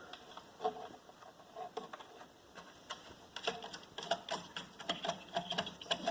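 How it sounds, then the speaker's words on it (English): Small brass bolts are turned by hand into a part of a 24-inch computer desk, producing light irregular clicks and ticking scrapes of metal on metal, close and soft, with no talk. "with like little brass bolts, which are these, here and here."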